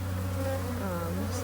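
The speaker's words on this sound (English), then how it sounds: "These busy bees, they're a little more active because they're hot and irritated because they've been in this box." Honeybees being installed from a nuc box into a hive, agitated and hot, a dense close buzzing swarm with a steady droning hum and overlapping wingbeats.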